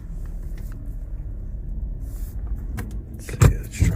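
A 2006 Subaru Tribeca 3.0L engine idles after a misfire repair, a steady low rumble close by with a few clicks and a louder knock near the end.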